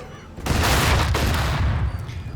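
A grenade blast and a burst of gunfire from the tactical video game Tastee: Lethal Tactics: a sudden loud, dense explosion-like roar that holds for about two seconds, with rattling shots inside it, and no voices.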